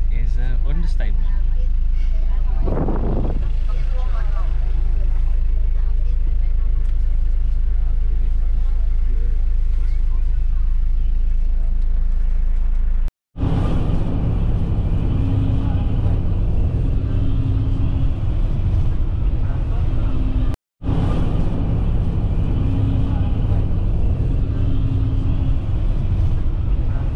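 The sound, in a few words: packed bus driving from Huay Xai to Luang Prabang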